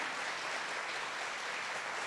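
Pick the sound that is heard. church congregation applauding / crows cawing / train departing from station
church congregation applauding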